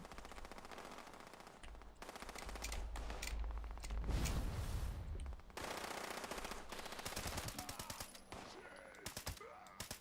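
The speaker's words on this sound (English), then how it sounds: "I hear the gunshots up there too. Super mutants on the Grafton Dam." Sustained bursts of machine gun fire from the video game Fallout 76, where super mutants fight on Grafton Dam, rattling loudly and almost continuously with short pauses and heavy low-end booms.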